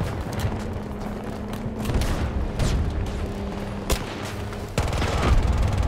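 Enemy AI gunfire in Battlefield 2042, a steady stream of automatic shots with booms and mechanical clatter, loud and close, with a sharper, heavier burst near the end and no voices.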